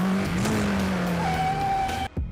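A motorcycle drifting with tire squeal in an old Indian motorcycle advertisement: a steady engine roar with a sliding tonal squeal that rises and holds, then cuts off abruptly near the end.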